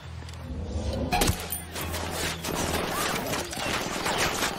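Gunfire from the Ghost Recon: Wildlands video game, a dense burst of rapid shots with thuds and a sharp crack, continuing as a busy firefight under low engine-like rumble and faint voices.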